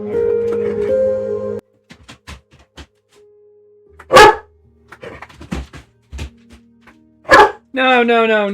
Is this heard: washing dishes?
no